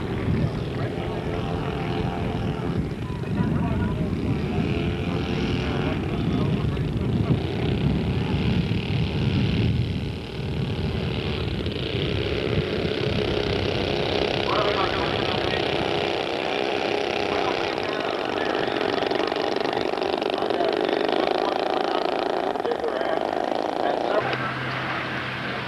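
Engines of a large B-17 Memphis Belle scale model aircraft drone steadily during a landing approach at a model flying event, with a voice talking over them.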